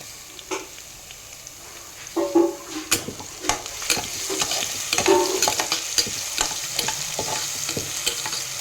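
Freshly pounded ginger garlic paste fries in the pan for a ridge gourd curry, a close steady sizzle with repeated scraping and clinking strokes as it is stirred.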